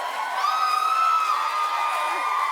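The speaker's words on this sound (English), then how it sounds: "I love the roar of the crowd" Whoops and cheers pour steadily from a daytime talk show's studio audience, high voices rising over a continuous crowd roar.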